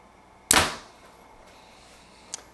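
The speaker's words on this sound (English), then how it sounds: "So we will shoot through paper and just see what we get." Arrow loosed from a Mathews compound bow punching through a sheet of paper: one sharp, loud snap of release and impact, a fading ring, then a faint click a moment later.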